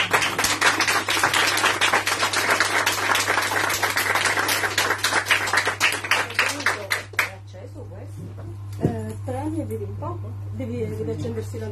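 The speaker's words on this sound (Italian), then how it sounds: "Un applauso." Audience applause at an Italian book presentation in Naples for a science book, a dense burst of clapping that thins to scattered claps and then gives way to talk, over a steady low hum.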